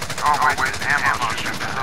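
Rapid automatic gunfire in Call of Duty: Modern Warfare, a dense continuous burst of shots lasting the whole moment with a voice speaking over it.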